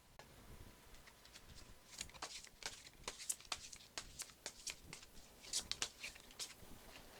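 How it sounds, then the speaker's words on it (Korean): Tarot cards are shuffled and drawn by hand in a series of quick, close, crisp flicks and riffles that fade in and out at an uneven rhythm, with no talking over them. "이 시점 여러분께 꼭 필요한 조언의 카드 추가적으로 2장 더 뽑아 볼게요"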